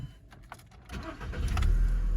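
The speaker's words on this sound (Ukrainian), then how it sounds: "Двигун запускається чудово." A Volkswagen Golf 5 Variant estate with a 1.6 MPI petrol engine cranks and fires up, building into a steady, close low rumble after a brief quieter stretch at the start.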